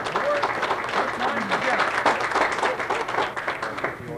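A crowd at a 1992 no-tap bowling tournament in Franklin, PA applauds steadily throughout, a dense wash of clapping with a commentator talking over it.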